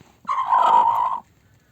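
A broody hen in a chicken coop gives a single drawn-out, close clucking call lasting about a second, with quiet before and after.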